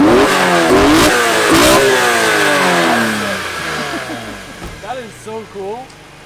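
A drift car on a stock exhaust, its induction noise prominent, revs hard in repeated rising bursts that fade into softer throttle blips, with people talking over it.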